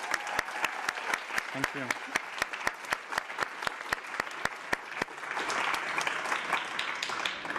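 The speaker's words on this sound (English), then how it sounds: "the COI 13 organizers deserve another round of applause" Audience at a climate youth day opening applauds, steady clapping with sharp regular claps standing out nearby, while a voice speaks briefly over it.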